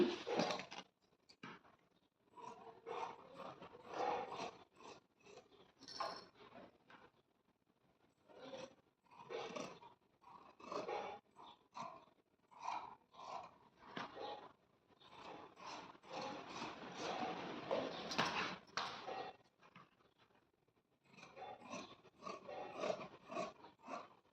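Scissors snip through cloth for the back part of a garment in a tailoring session, a steady run of short rasping cuts with brief pauses, close and fairly quiet, with no talking.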